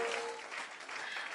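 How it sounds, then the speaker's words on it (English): Studio-added applause effect for a podcast intro, a dense wash of many hands clapping at steady loudness for just over a second, with no voices over it. "Put those applause in there."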